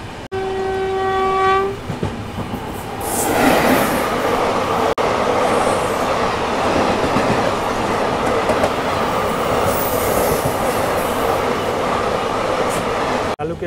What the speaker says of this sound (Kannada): ಇವಾಗ ನಮ್ಮ ಕ್ರಾಸಿಂಗ್ ಆಗಕ್ಕೆ ಹೋಗ್ತಿದೆ ತಿರುವನೆಯಲ್ಲಿ Dadar central Chalukya express via SMBB